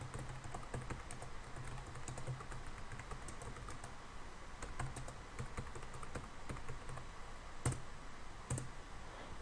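Rapid keystrokes on a computer keyboard while entering text in AutoCAD, an irregular patter of close, crisp clicks with a couple of heavier key presses near the end.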